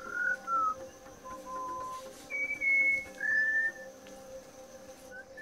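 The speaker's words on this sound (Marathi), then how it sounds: "अशातच एखादी सुरेल शीळ ऐकू येते. कोणी एखादी व्यक्ती सुरेल शीळ घालत आहे असा भास होतो. हा आहे मलाबार विस्लिंग थ्रश." A Malabar whistling thrush in a Kolhapur forest gives clear, melodious whistled phrases, several rising and falling notes in separate bursts over a faint insect hum.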